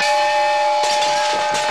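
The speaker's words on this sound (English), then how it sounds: "Suddenly, Roger's head turned into a steam whistle and let out an ear-piercing blast." A cartoon steam whistle lets out an ear-piercing blast, a loud, shrill, sustained tone with breathy hiss that holds steady throughout, accompanied by a few sharp knocks near the end and no voices.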